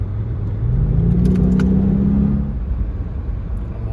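A 2017 Audi S8 Plus accelerates hard from inside the cabin, a deep engine drone rising steadily in pitch for a couple of seconds before easing off, loud and close.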